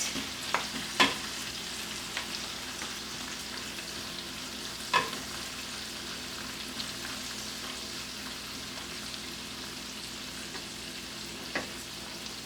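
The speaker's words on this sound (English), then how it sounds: "And just what we're doing is kind of frying it." Kale frying in hot butter in a pan, a constant crackling hiss with a few sharp clinks and scrapes from stirring.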